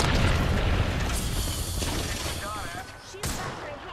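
Apex Legends gameplay with dense, continuous gunfire and booming explosions that stay loud throughout, a few sharper blasts toward the end, and a voice talking faintly beneath the fighting.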